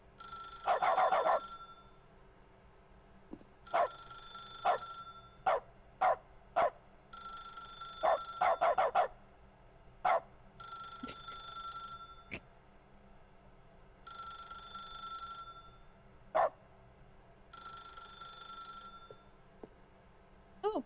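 A telephone rings in the video game The Stanley Parable, repeated bursts of bright electronic ringing separated by short gaps, alongside occasional sharp clicks and a low steady room hum, with no speech.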